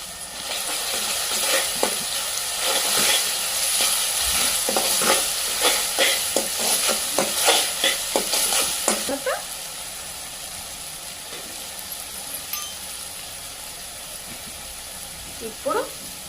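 Garlic paste sizzling and frying in a pan for a mushroom curry, stirred with repeated scraping strokes for about nine seconds before settling into a softer steady sizzle, with a voice speaking over it.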